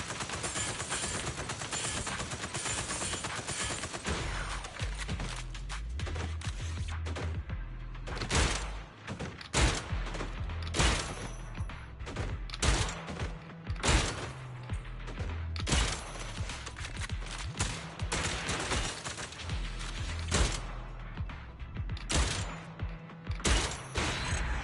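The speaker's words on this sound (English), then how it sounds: "you can hold the trigger down to put it into full auto" Sustained full-auto gunfire from a video game, Zenless Zone Zero, with unlimited ammo in a shooting-gallery section: dense rapid bursts with heavy thumping impacts for the whole stretch, loud and close, with no talk.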